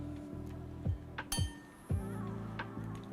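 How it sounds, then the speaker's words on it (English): Spoon stirring a pot of vegetables with bay leaves and corn: a few close metallic clinks and knocks against the pot in an irregular rhythm over a steady background hum, with no talking. "So with this, let's stir it up."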